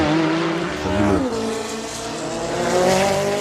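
An Aston Martin Group C race car from the 1980s races at the 24 Hours of Le Mans, its loud engine note shifting pitch as it passes nearby, with a brief tire squeal.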